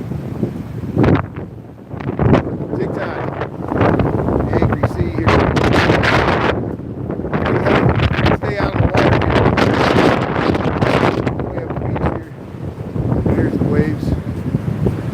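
Wind-driven Lake Michigan waves crash over shoreline pilings near Lakeshore Drive in Chicago during snowy, stormy weather, a continuous loud roar of surf and heavy wind buffeting the microphone, with a person talking over it.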